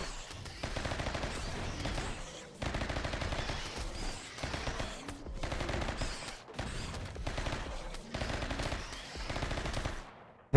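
Automatic gunfire from the Rimworld video game, sustained bursts of rapid machine-gun fire broken by brief gaps, dense and loud throughout.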